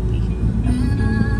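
Car traffic heard from inside a vehicle, a steady low rumble of engines and road noise with faint tonal whines rising over it, moderately loud and continuous.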